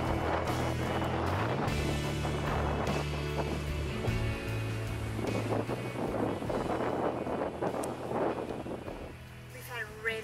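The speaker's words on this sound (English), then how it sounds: "Later that afternoon, the wind really picked up." Strong gusty wind of up to 70 km/h buffets a campsite awning in Queensland, a steady loud roar that swells and eases and buffets the microphone, with a low drone underneath and voices talking over it.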